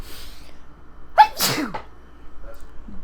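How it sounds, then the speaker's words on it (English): A single close sneeze, a sharp breathy burst in an otherwise quiet room, followed by faint movement. "I have to sneeze."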